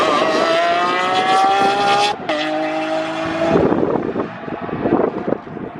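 A hypercar launches hard on an airport runway, its engine note climbing through rising gears with a brief shift gap, loud and close at first, then pulling away with tire noise and wind buffeting.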